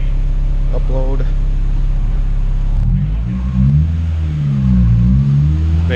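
Honda B20V all-motor engine in a CR-V on a dyno, a steady low mechanical drone that swells into a louder, shifting rev partway through, with brief talk early on.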